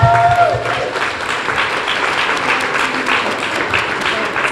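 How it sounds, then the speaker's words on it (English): Crowd applause at a community health worker appreciation day, a dense, loud, sustained round of clapping from a roomful of people, steady throughout with a few voices mixed in near the start. "Can we have a humongous round of applause to all of us?"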